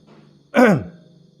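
Someone clears their throat once, a short voiced rasp against a quiet background.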